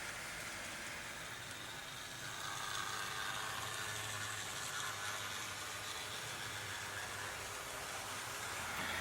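A Hornby Class 2721 model steam tank engine runs steadily, giving a continuous mechanical whir and rumble at moderate volume, with no voices.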